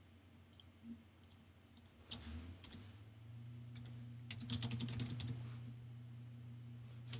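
Fingers type quietly on a computer keyboard: a few scattered taps at first, then denser bursts of key clicks over a low background hum.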